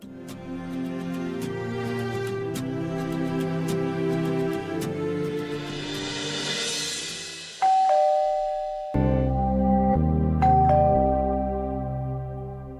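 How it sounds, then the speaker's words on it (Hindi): A doorbell chimes a couple of clear two-tone dings over sustained background music, the tones standing out loud and near. "तुम लोगों को घंटी सुनाई नहीं दे रही है?"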